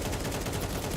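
Rapid gunfire is traded through smoke in a professional Counter-Strike match, a dense, continuous burst of rifle shots filling the whole second at steady loudness.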